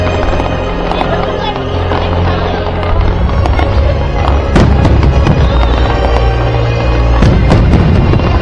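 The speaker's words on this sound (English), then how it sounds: "Quality of fireworks is next level." Fireworks at a pyromusical display, dense continuous crackling with two sharp loud booms standing out, a bright, close, sustained barrage with faint voices mixed under it.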